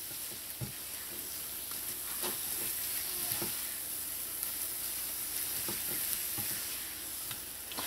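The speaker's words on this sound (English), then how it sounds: "So once your dough comes together, I'll say just cook this for like about a minute or less." Trini cheese puff dough cooking in a pan, a soft continuous sizzle under a steady hiss, with occasional knocks and scrapes of the spoon against the pan, close and even throughout.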